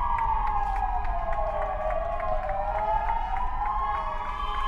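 A crowd outside hospitals in Córdoba applauds healthcare workers, steady distant clapping and cheering under a loud wailing emergency-vehicle siren that dominates throughout.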